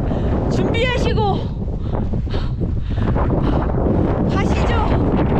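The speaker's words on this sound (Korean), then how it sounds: "바람이 시작되었어." Strong wind buffets the microphone on the Seonjaryeong mountain trail in Korea, a steady loud roar throughout with people talking over it.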